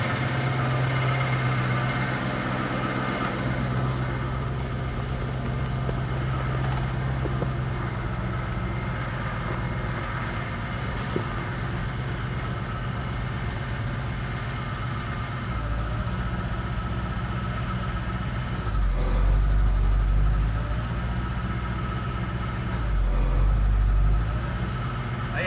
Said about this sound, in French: On va redémarrer, on va voir.